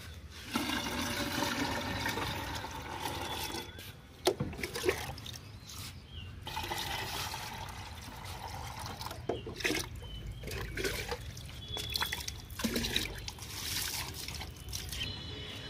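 Water pours and trickles steadily onto rooftop garden plants, with splashes and dribbles over a continuous wet rush. It is close and fairly loud, with brief pauses in the flow and no talk.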